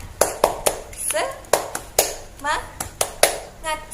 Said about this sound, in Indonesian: kita tepuk semangat dulu ya teman-teman